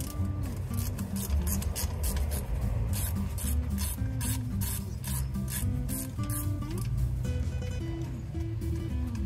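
Small bolts come off a car's brake master cylinder with repeated close scraping and ratcheting strokes from a hand tool, steady and fairly quiet, with no talking.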